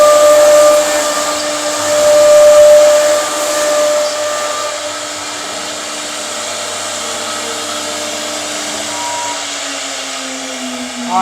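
A design machine cuts a pattern into a door panel, giving a loud, steady, continuous whine that holds for about eleven seconds. Its tone shifts slightly toward the end.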